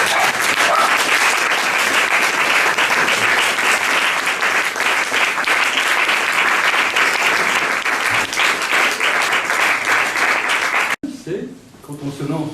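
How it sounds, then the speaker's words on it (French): An audience gives long, steady, loud applause at the end of a lecture on advertising ideology, dense clapping that stops abruptly before a speaker talks. "On applaudit."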